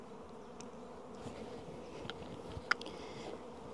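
Honey bees buzz continuously around an open hive during spring work on artificial swarms, a dense low droning hum with a few faint clicks and knocks.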